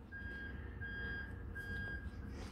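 A lorry's reversing alarm beeps steadily outside, a thin repeating tone heard faintly over a low rumbling background.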